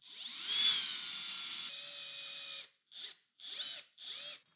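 A drill bit boring into a resin 3D-printed part: a sustained close high-pitched whine that drops in pitch, then three short separate bursts of drilling with pauses between them.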